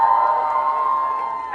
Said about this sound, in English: I like how Dattaji is cheering for me right there.